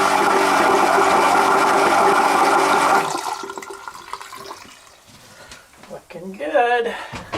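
Jabsco 37010 Series electric macerator marine toilet on a boat runs loudly for about three seconds, a steady whirring pump drone drawing in and sucking out water, then cuts off, leaving quieter knocks and a person speaking.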